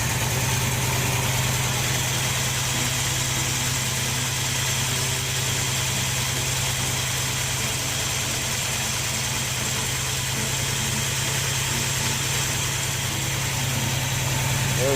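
A car engine idles steadily while warming up on a cold start, a loud, close, continuous rumble with an even low hum and vibration that holds for the whole stretch and has no speech over it.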